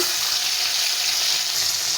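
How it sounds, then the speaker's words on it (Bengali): A cleaned fish oil sac fries in hot oil in a home kitchen, a steady, close, continuous sizzle with no pauses. "প্রথমে মাছের তেল পটকাটা একটু ভেজে নেব।"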